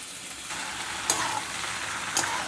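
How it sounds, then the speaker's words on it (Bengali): Boiled, drained pasta is tossed and mixed in a hot pan: a continuous soft sizzle with two sharper scraping strokes of the spoon, close and alone. "এবার এটাকে আমি ভালো করে মিশিয়ে নেব"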